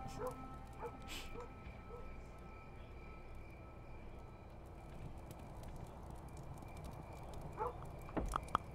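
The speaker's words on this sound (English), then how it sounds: "Doggy likes to bark." A dog yips and barks faintly in the side-scrolling strategy game Kingdom New Lands, a few scattered barks over a low, steady game ambience.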